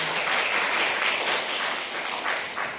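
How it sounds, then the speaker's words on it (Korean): Audience applause at a Seoul waste-management forum after a research presentation, a dense, even roar of many hands clapping that holds steady throughout and fades slightly toward the end. "큰 박수 다시 한번 부탁드립니다"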